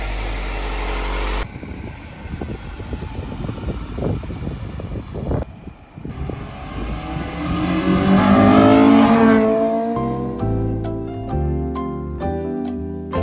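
A Honda Integra swapped to a B18C engine with a Mugen twin-loop exhaust idles, then revs and pulls away, its engine note climbing to a loud peak before shifting into a steady tone.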